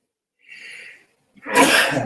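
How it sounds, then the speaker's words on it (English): A single sharp sneeze, preceded by a short indrawn breath, close and loud in an otherwise quiet group meditation session. "Somebody sneezing during a group meditation can often be a bit startling."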